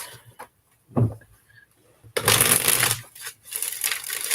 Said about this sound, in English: Let me get you all shuffled up here.